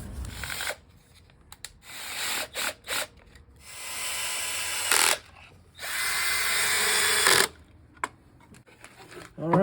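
A drill bores pocket holes in wood for a cabinet frame, with loud whirring bursts, several short and two long, separated by brief pauses.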